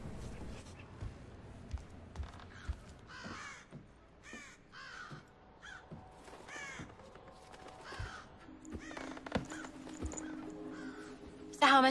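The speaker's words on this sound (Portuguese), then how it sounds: "tem um passarinho aqui" In the stealth game Thief, a bird caws in short repeated calls scattered through a quiet interior scene, with soft footsteps, someone talking intermittently and a low hum near the end.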